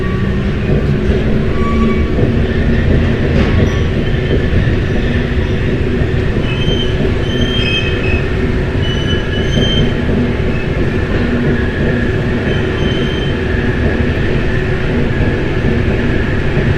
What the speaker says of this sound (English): the train now starts running back to the station.